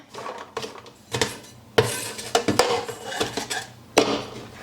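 A metal pan is shifted and raised during pressure canning of corn, giving a run of close clanks, scrapes and knocks of cookware in uneven bursts.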